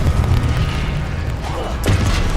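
Blasting spell explosion from the Confringo curse in the Hogwarts Legacy video game, a loud booming burst over continuous rumbling game noise, with a second sharper blast near the end.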